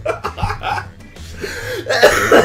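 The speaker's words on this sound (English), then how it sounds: "I had a cough for so long." A person coughs in several quick, harsh bursts, close and fairly loud, with a low steady hum underneath and a stronger fit toward the end.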